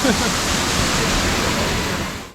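A fountain's water rushes and splashes continuously nearby at EPCOT, Walt Disney World, a broad steady spray that cuts off abruptly at the end.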